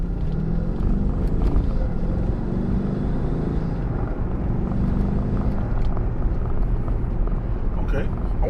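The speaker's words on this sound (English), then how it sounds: "I turn, then I'm going to kind of give it some more gas, and we'll see what we can get" A BMW X5M fitted with aftermarket turbo inlets accelerates on the road, its engine note rising steadily in pitch as the throttle opens, loud and continuous, with a voice talking over it.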